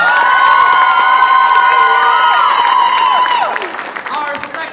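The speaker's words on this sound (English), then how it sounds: "Let's give him a little more round of applause." A loud crowd at a school idol singing contest cheers, whoops and shouts with high voices over clapping, sustained and energetic, then fading slightly near the end.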